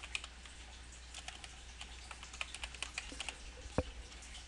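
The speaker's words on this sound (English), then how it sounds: "type in our search box the procedure name" Light typing on a computer keyboard, a quiet run of scattered key clicks in an irregular rhythm with one sharper tap near the end, close and faint, with no voices.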